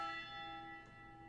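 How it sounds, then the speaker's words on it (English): A church bell tolling in the video game The Shrouded Isle, a single faint, sustained ringing tone with rich overtones slowly decaying. "For whom the bell tolls."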